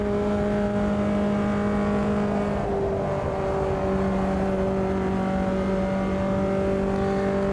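A Formula Inter race car in the sim racing game Automobilista 2 screams at high revs as it pushes around a lap, a loud steady engine whine with shifting pitch throughout.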